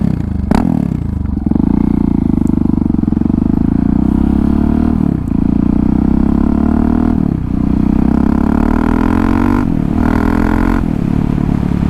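Husqvarna 701 motorcycle fitted with a Kemimoto universal slip-on muffler, engine idling loud and close with a deep, steady exhaust rumble broken by several short blips of revving.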